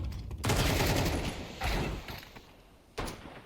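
Counter-Strike 2 gunfire from a Scout sniper rifle and a Desert Eagle pistol: three sharp, booming shots spaced about a second apart, each ringing out and decaying before the next.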